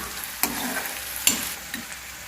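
Ginger garlic paste frying in a pan, with a steady close sizzle and two sharp scraping stirs cutting through the hiss.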